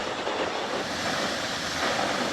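A full waterfall on Lombok, Indonesia, seen from a viewing terrace, produces a steady, dense roar of rushing water that holds even and unbroken throughout.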